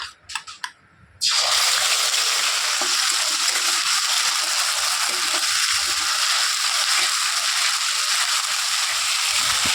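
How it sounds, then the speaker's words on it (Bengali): Ginger and green chilli paste drops into a pan of hot oil with whole cumin seeds, and after a brief clatter it sizzles loudly and steadily. "আদা কাঁচা লঙ্কাটাও ভালো করে ভেজে নিয়েছি"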